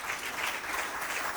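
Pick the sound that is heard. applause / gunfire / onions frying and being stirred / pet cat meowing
applause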